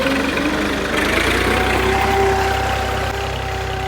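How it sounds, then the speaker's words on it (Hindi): Steady idling rumble of a tractor engine out in a farm field where planting beds are being made, loud and close with a constant low drone and no talk. "इसमें क्यारे वगैरह बनाने के लिए अभी ट्रैक्टर वाला आया।"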